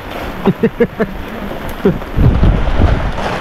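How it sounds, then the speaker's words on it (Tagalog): Rain at sea over a small fishing boat: a few sharp knocks come first, then a steady hiss of rainfall sets in and holds to the end. "Lumurok na ang ulan."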